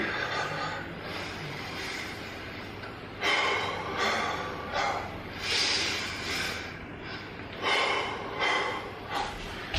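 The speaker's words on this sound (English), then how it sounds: "let's start to incorporate the breathing" Rhythmic, forceful breaths in and out accompany a karate-inspired shoulder movement exercise: about half a dozen close, airy exhalations in a steady cycle over quiet room tone.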